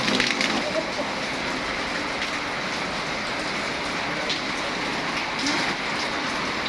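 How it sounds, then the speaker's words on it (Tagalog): Steady, dense hiss of heavy rain pouring continuously, loud and close, with no talking over it. "sobra ulan dito"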